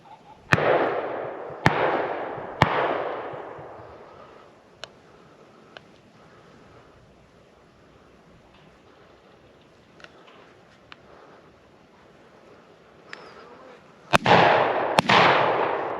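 Shotguns fire at a tower pheasant shoot outdoors: three loud, sharp blasts in quick succession, a few faint distant pops, then two more close shots ringing out.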